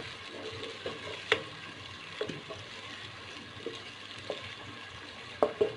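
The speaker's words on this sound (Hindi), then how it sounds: "अब ये देखें यहाँ पे मिक्स मिक्स मिक्स अच्छे तरीके से" Chickpea masala is stirred and fried in a pan for Lahori chanay, a steady close sizzle broken by sharp scraping knocks of the spoon at irregular intervals, with no one talking.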